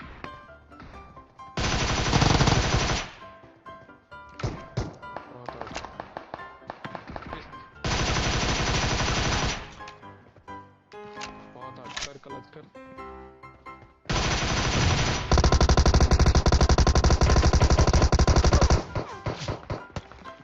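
Rapid automatic gunfire in PUBG Mobile erupts in long loud bursts separated by shorter shots and pauses, with a voice talking over parts of it.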